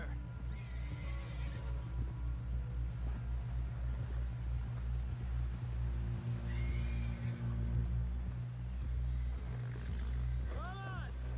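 Horses neigh and whinny in the Red Dead Redemption 2 game world, with hooves clip-clopping steadily over a constant low rumble, a rising whinny near the end, and voices talking throughout.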